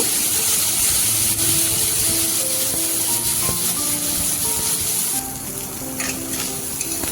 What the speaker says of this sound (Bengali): চিংড়ি মাছগুলো এবার ভালো করে ভেজে নেব।